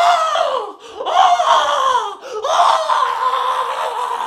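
A man imitates a movie character screaming wildly, a loud, strained, wavering vocal scream in two or three long bursts with brief breaks, close and alone.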